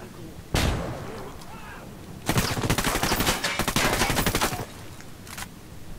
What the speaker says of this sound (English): Flashbang's going in.